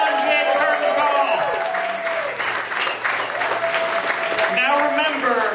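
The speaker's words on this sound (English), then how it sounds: "let's have a big round of applause for all of our serials artists" Audience applause and cheering for serials artists taking a curtain call at a live theater show, continuous loud clapping with whoops and shouted voices layered on top throughout.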